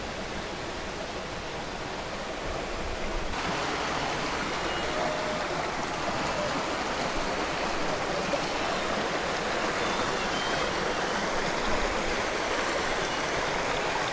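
River water flowing on a farm where people cross it, a steady broad rushing roar that stays loud and unbroken throughout, with no voices.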